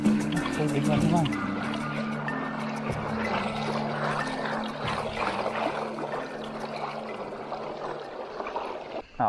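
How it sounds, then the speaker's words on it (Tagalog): Water flowing and splashing at a river crossing on a 60 km gravel bike ride, a moderate rushing trickle with people talking over it. "Tubig na naman."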